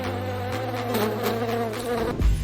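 A close, steady insect buzz like a housefly droning for a couple of seconds, ending with a brief bump.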